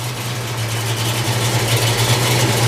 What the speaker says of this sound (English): Motor sounds real good.